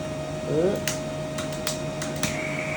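A gas-cylinder-fired cattle horn branding machine in Italy runs with a steady, fairly quiet hum, broken by a few sharp clicks and ticks and a short rising whine near the start.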